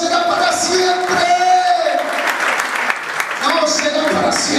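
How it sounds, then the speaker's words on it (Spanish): A church congregation claps loudly and steadily in a dense, sustained round of applause, with a voice talking over it and the clapping swelling again near the end. "Dale un fuerte aplauso."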